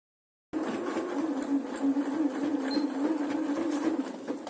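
Sewing machine running a continuous straight stitch about 2 mm from the fabric edge on a child's dress, a steady close mechanical whir that starts after a brief silence and holds to the end.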